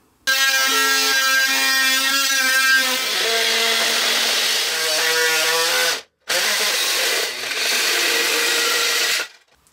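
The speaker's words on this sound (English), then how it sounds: "I'm just going to use a multi-tool to cut that out" An oscillating multi-tool cuts a square access hole in a metal oil lamp base, a loud, sustained buzzing whine that shifts pitch as the blade bites, with one brief pause.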